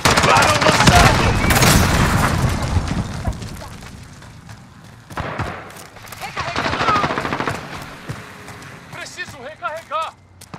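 Rapid automatic gunfire and a heavy explosion from a grenade in Call of Duty: Modern Warfare, loud and dense for the first few seconds, then sparser shots and blasts with voices calling out over the action.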